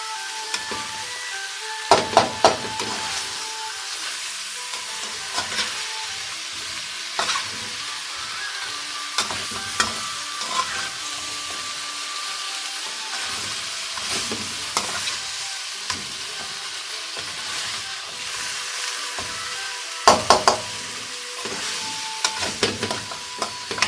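Pork with chili and red beans stir-fries in a hot pan, a steady close sizzle broken by repeated scraping and clattering spatula strokes in irregular bursts over about twenty seconds, with no talking.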